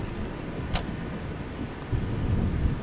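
Loud, steady rain pours over a Project Zomboid game scene, a continuous dense wash of noise that swells slightly near the end.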